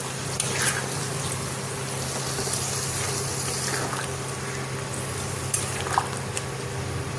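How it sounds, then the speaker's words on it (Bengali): Hot water poured into a pan of simmering chicken curry with potatoes, a steady liquid gush and bubbling hiss running throughout, with a few faint drips and splashes near the end. "ঝোলের জন্য দিয়ে দিচ্ছি গরম জল"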